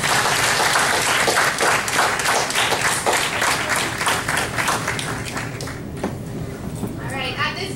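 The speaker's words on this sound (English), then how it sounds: "Audience, please give them a big round of applause for contributing to this" Loud, dense audience applause at a pageant award ceremony filling the room, gradually thinning out toward the end as the clapping tapers off.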